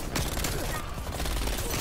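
Rapid Mac-10 submachine gun bursts crackle in Call of Duty: Black Ops Cold War multiplayer, dense overlapping shots from several weapons, loud and close.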